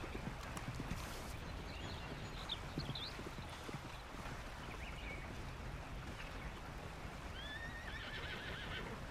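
Horse in Red Dead Redemption 2 whinnies and clip-clops over water and sandbank terrain, hoofbeats steady throughout with a shrill neigh near the end, set against constant ambient game noise.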